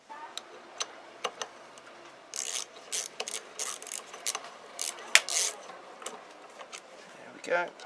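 Bolts being fitted back into a Camon LS42 cartridge give close, repeated ratcheting clicks and metallic ticks, with bursts of rapid clicking midway and at the end, with no talk.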